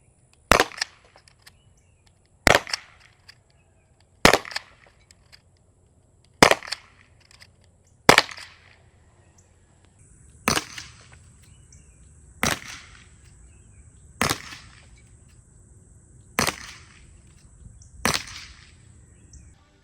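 Ten sharp, loud shots from a Byrna CL launcher fired at a target from about 15 to 20 feet, in two groups of five, each a crisp pop spaced roughly two seconds apart.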